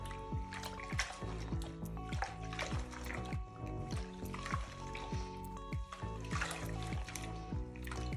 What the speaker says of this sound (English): I'm now just going to push my wig up and down just to get that shampoo going through all of the hairs.